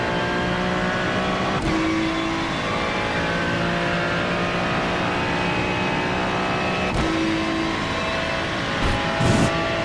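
A McLaren race car engine in a racing video game roars at high revs throughout, holding a steady loud drone with a few quick gear-shift dips and rises.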